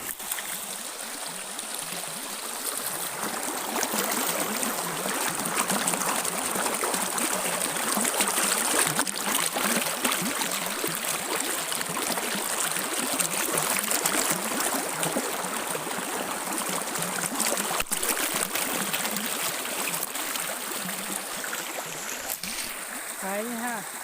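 A jungle stream in Laos flows steadily and fairly loudly throughout, a continuous rushing wash of water with a few faint voices in the background.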